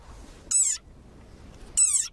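A small desert rain frog gives two high, shrill squeaks about a second apart, each short and piercing, like a squeezed toy, with quiet in between.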